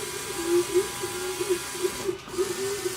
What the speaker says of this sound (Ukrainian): О, колесо крутиться в різні сторони, тобто він повертає.